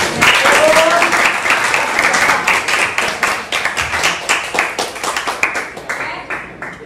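Classroom applause for a student named Reza: a dense burst of many hands clapping nearby, loud at first then thinning into scattered claps that fade out, with a brief voice at the start.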